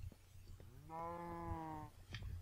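A baby cow in Minecraft gives one drawn-out, tonal moo lasting about a second, heard clearly over faint background noise.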